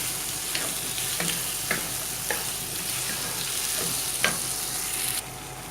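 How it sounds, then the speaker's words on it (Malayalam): Tomatoes and onions frying in a pan, with a steady broadband sizzle and several distinct scraping knocks from stirring at irregular intervals, close and fairly loud. "ഇളക്കി കൊടുക്കുക."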